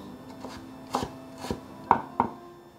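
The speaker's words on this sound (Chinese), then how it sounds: "换一个方向来切碎" A knife chops a peeled carrot on a cutting board, four or five distinct, close chops in an uneven rhythm with no voices.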